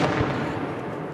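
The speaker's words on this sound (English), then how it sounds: "You can hear the artillery." Outgoing artillery fire from Ukrainian forces, a low booming blast at the start that rumbles and fades into a sustained roar.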